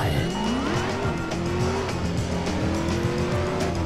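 A car driven in the video game Driver San Francisco, its engine droning steadily with a rising pitch, tires squealing and skidding, loud and continuous with no talking.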